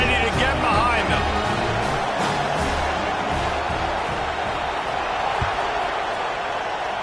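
Stadium crowd at a football game roaring steadily around a kickoff, a dense, loud wash of cheering that holds throughout, with a broadcast commentator talking over it.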